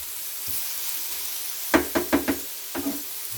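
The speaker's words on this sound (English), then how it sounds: "Let that get a little more browned up a little bit, or the white color of the pork gets, you know what I mean, browning it up." Pork browning in a pan for a quesadilla, a faint steady sizzle under a few sharp knocks and scrapes of a utensil against the pan.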